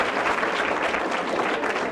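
An audience breaks into steady applause for a child at a quiz talk show, a dense continuous clapping that fills the whole moment without any voice on top.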